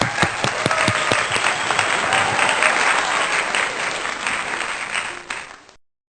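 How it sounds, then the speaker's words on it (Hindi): A church congregation at Sunday worship breaks into sustained, dense applause that holds steady for several seconds before tapering off quickly. "तालियां"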